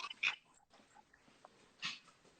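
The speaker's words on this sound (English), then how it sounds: "My dogs are in the kitchen and I just took their bone away from them" Dogs in a kitchen after their bone is taken, giving faint, brief whimpering and yelping sounds in a couple of short bursts, with soft rustling between them and no talk.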